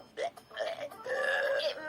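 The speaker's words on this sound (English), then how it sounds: "It makes us burp a lot." A string of drawn-out, throaty burps after a meal, loud and near, coming in uneven bursts over nearly two seconds.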